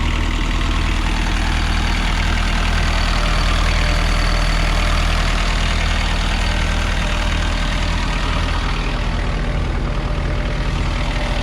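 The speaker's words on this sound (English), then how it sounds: "nice little Kubota 4-cylinder diesel on this one" Kubota four-cylinder diesel engine on a Toro Reelmaster 5410 five-gang mower idling, a steady low rumbling chug with even rhythm, loud and close, running alone without talk.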